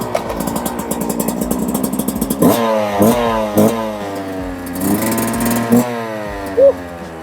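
A 2023 Yamaha YZ125X trail motorcycle engine idles with a buzzy, throbbing drone, punctuated by several short throttle blips that rev it up and drop back down.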